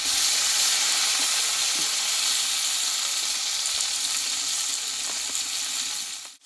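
Chopped tomato and ginger-green chili paste fry in a pan for a vegetarian Bengali mung dal, a loud steady sizzle holding throughout with faint stirring and no voices.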